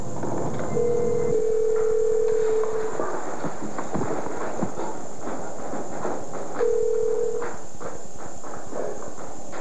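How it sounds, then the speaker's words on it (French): Telephone redial firing off a rapid run of touch-tone beeps, with a steady dial tone sounding briefly before and after the burst of clicks and tones, all alone with no talk. "moi j'ai une fonction redial là-dessus"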